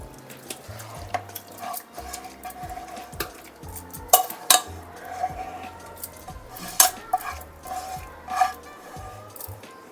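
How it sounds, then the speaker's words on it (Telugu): Chicken is settled into a two-kilogram metal pot for dum biryani. Soft squishing and scraping mix with sharp clinks of a utensil against the pot, irregular and close, with no talking. "ఇప్పుడు ఈ చికెన్ అంతా ఇందులో పెట్టేద్దాం మొత్తం సెట్ చేసి పెట్టేద్దాం"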